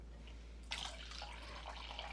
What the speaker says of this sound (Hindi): और इसमें मैं डाल रही हूँ इतना ही कोसा पानी,